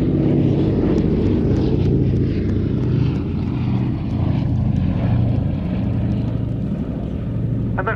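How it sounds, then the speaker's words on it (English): The B-17G Flying Fortress bomber Sally B makes a flypast at an airshow, its piston propeller engines giving a steady, loud, continuous drone that holds throughout with no talk over it. "Final run, the B-17G Flying Fortress,"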